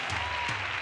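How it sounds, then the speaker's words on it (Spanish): Audience applause fills a live Spanish-language variety show studio, dense steady clapping heard up close for under a second, with a voice briefly over it. "¡Un aplauso!"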